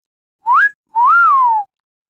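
A person whistles two close, clear notes: a short rising note, then a longer one that rises and falls away, like an attention-getting or wolf-style whistle, with silence around them.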